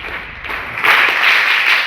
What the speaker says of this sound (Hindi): तो एक बार फिर से आप सबके प्रयास के लिए एक बार जोरदार तालियां